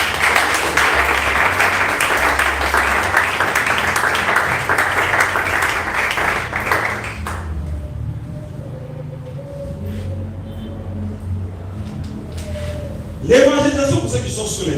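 A church congregation bursts into loud sustained applause and cheering that fills the room, then fades into quieter murmur and a low hum, with a sharp bump near the end.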